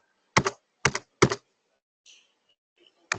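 Keys on a computer keyboard are struck in three quick, crisp clusters of clicks, followed by a faint soft tap and another sharp keystroke, close and with no voices.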